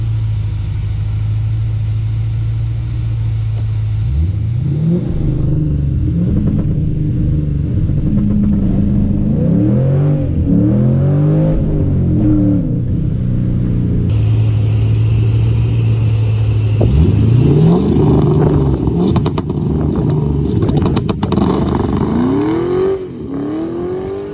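An upgraded Ford Mustang engine is held at a steady rev on two-step launch control. It then surges and roars in loud rising pulls, twice, close and with no talk.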